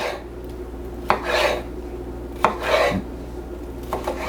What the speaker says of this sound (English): I'm going to take this and I'm going to go ahead and slice it actually this way here